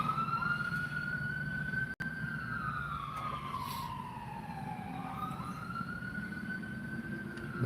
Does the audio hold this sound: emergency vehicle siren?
yes